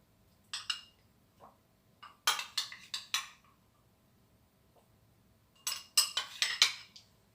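Spoon scooping mango into a dish while layering a yogurt fruit parfait, giving three separate bursts of light clinks and taps against the bowl with quiet gaps between them.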